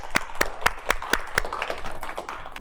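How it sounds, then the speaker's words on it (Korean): A church congregation applauding to welcome a missionary, with crisp hand claps in a steady, even rhythm that soften into looser, scattered clapping. "이제 우리 강순신 선교사님 나오실 때 큰 박수로 함께 환영해 주시면 감사할 것 같습니다"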